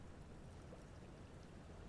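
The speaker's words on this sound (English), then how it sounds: "The harbour seawall endures the wash of the freezing waves." Freezing waves wash against a harbour seawall in the game Disco Elysium, a steady low rushing churn of water with no breaks, fairly quiet and continuous throughout.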